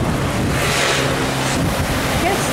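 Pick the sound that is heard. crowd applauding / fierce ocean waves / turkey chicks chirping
fierce ocean waves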